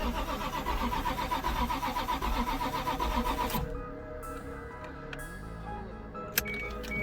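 Toyota Supra starter cranks a 27-year-dormant engine loudly and rhythmically for about three and a half seconds, a fast repeating grind, then cuts off leaving a quieter background with a faint click near the end.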